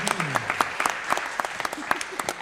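Audience applause at a startup event, sparse individual claps with sharp spikes over a crowd bed, with voices and cheers calling out under the clapping.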